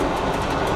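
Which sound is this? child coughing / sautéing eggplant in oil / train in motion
train in motion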